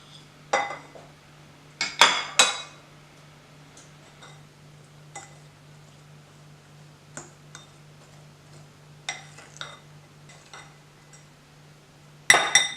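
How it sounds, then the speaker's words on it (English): A spoon mixes lemon pie ingredients in a bowl, producing sparse, faint clinks and taps against the dish, with a few sharper knocks clustered at the start and end and long quiet gaps between. "So I'm going to put this in here too, and I'm going to mix this up."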